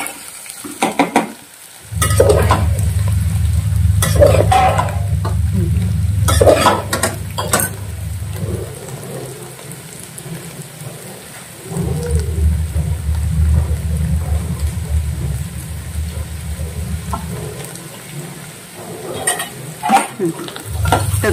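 Onion roasting in a pan, stirred until pink, makes a continuous frying sizzle with repeated scraping stirs and occasional utensil knocks against the pan, in two longer bursts of stirring with a quieter stretch between.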